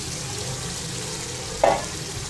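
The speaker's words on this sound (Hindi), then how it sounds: "इसे अच्छे से मिक्स करके इसमें लो फ्लेम पे मैं पकने के लिए रख दूंगी" Chatpati kaleji (liver) cooks on a low flame in a pan with a soft, steady sizzle, broken near the end by one brief clink of a utensil.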